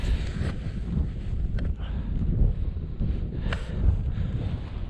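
Chilly wind gusting across an open mountain summit on Beinn Bheula, a steady low roar buffeting the microphone with brief flaps and swells, no voices.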